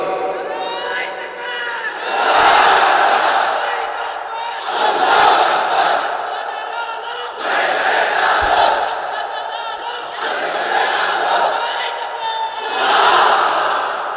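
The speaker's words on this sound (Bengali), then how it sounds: "তাকবীর পড়েন তো দেখি, আল্লাহর নামে পড়েন, লিল্লাহি তাকবীর।" A large religious gathering at an Islamic sermon loudly shouts the takbir in repeated waves, five or so swelling collective cries with brief dips between them, filling the space with dense crowd voices.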